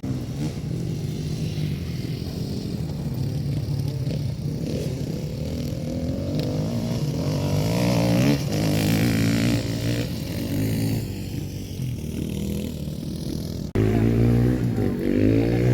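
A 2020 Beta dirt bike engine drones steadily up close on a dealer demo ride, revving and dropping through the gears with continuous engine noise, a brief cut near the end.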